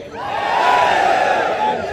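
A large crowd at a BJP Lok Sabha election campaign rally in Tarikere shouts a sustained, loud jaikara cheer in unison, swelling and holding for about two seconds.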